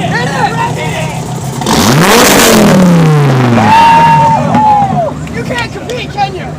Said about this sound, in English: Let's hear it! Rev it! Hit it! Rev it!